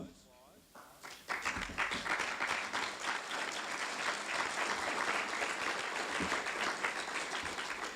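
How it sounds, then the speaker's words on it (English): An audience at a fire department awards ceremony breaks into loud, sustained applause, with dense clapping filling the hall after a brief moment of quiet. "How about a round of applause, please?"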